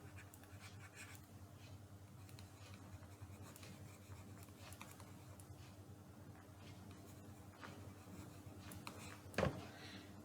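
Pen or marker writing on a board or paper during a math lesson, faint soft scratching strokes in short bursts over a quiet room hum, with one louder tap near the end.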